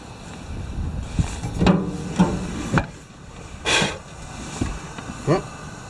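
Wind buffets an outdoors BBQ grill, giving low rumbling gusts and microphone wind noise, with scattered clicks and knocks near the grill.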